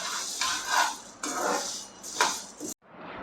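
Dry black lentils rattle and scrape as they are stirred around a hot pan over high flame in several bursts, close up, ending abruptly.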